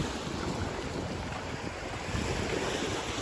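Steady wind and breaking sea waves at a beach on a morning seaside outing, a constant loud rushing roar with heavy wind buffeting the microphone and no talk.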